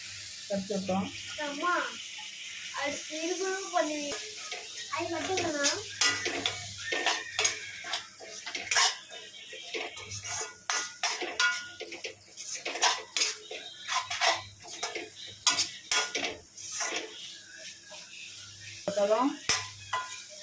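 Half a kilo of prawns is stirred with masala in a pan, with scraping and clinking spoon strokes against the metal over a light sizzle, and a person talks over much of it.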